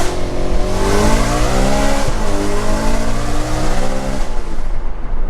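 A Nissan 350Z engine revs hard, its pitch climbing steeply toward an 8,000 RPM rev limiter, a loud, close, rising howl that holds at the top before easing.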